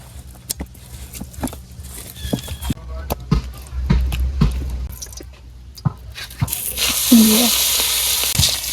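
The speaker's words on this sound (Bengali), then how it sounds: "মাছ বাজার জন্য কড়াইতে তেল দিয়ে দিলাম" Pomfret fish frying in oil in a wok in a village kitchen: scattered clicks and taps give way to a rising hiss of sizzling near the end, with a voice heard briefly.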